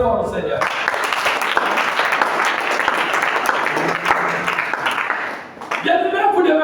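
A church congregation applauds loudly and continuously for several seconds. The clapping fills the space and fades out near the end, with voices heard at the start and the finish.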